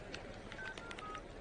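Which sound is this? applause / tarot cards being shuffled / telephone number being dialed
telephone number being dialed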